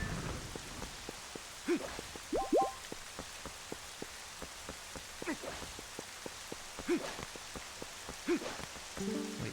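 Rain falls in The Legend of Zelda: Twilight Princess: a steady, soft hiss of rainfall with scattered drips and occasional brief tonal chimes rising above it.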